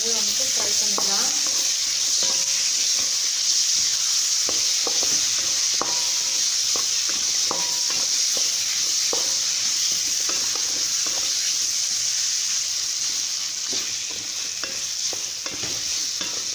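Jackfruit pieces frying in a pan for payasam, a continuous close sizzle broken by frequent scraping and stirring clicks of a utensil against the pan, with no voices.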